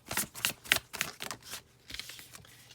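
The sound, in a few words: tarot cards being shuffled and drawn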